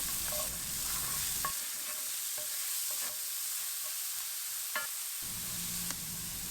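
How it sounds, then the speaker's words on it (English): Chopped onion and garlic sautéed in oil in a pan already used for caramelized meat, bursts of sizzling interrupted by quieter stretches, with spatula scrapes and clinks against the pan. "in the same pan and delicious oil I got, I'm gonna saute chopped onion and garlic"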